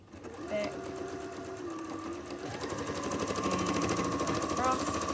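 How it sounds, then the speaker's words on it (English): A sewing machine stitches a straight seam across a tote bag with a steady, close, rapid mechanical chatter. The pace picks up and gets louder partway through. "Now I'm going to sew straight across here again."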